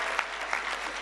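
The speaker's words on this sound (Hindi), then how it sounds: "हम तालियों की गूंज में स्वागत करें उन ब्रह्मचारियों का" Dense applause from a gathering at a saint assembly in Raman Reti, Vrindavan, welcoming young brahmacharis; brief and continuous with a couple of sharper claps standing out.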